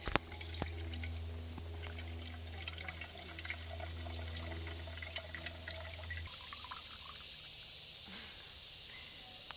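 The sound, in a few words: pouring stream water into a camping pot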